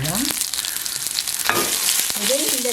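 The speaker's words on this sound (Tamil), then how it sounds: "வெங்காயம் போடுவோம்." Onions go into hot oil during tempering for a curry leaf sambal, giving a loud, continuous sizzle close by, with a few scraping stirs mixed in.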